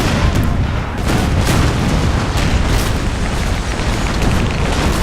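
Warship cannon broadsides in the Empire Total War naval battle game sound as a dense, loud rumble of overlapping booms and blasts that runs continuously with no pauses.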